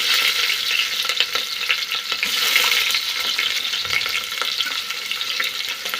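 Onions fry in hot oil, giving a dense, continuous sizzle up close with light stirring crackles and no speech.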